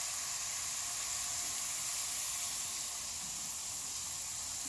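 Ginger garlic paste fries in hot oil with browned onions, giving a steady, close, bright sizzling hiss that holds without a break and has no talk over it.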